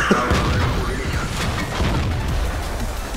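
Tank cannon fire in a World of Tanks soccer game mode, a loud boom at the start followed by a dense, continuous rumble of battle noise, with a voice talking over it.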